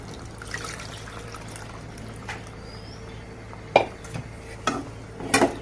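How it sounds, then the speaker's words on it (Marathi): Chicken stock is poured into a masala chicken gravy and stirred in a pan, a soft steady liquid wash broken by a few sharp clinks of the spoon against the pan near the end. "आता त्यामध्ये आपण वाफवून घेतलेलं चिकन त्याचं पाणी घालणार आहे।"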